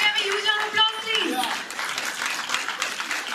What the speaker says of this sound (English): Can we have a huge round of applause, please?